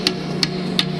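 A power hammer strikes hot wrought iron while forging a san mai blade, three sharp, evenly spaced blows over a steady machine hum.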